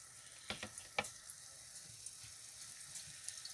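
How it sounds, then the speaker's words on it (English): Gluten-free battered fish laid into hot fat aboard a sailboat, giving a faint steady sizzle with a few sharp crackles and pops near the start, fairly quiet and close with no talk. "Lay it into the fat."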